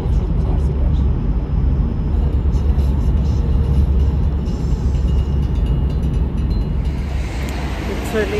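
Car driving on a cold morning, heard from inside the cabin as a steady, loud low rumble of engine and road noise throughout, with no one talking.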